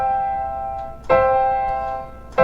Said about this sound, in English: And major sounds like this.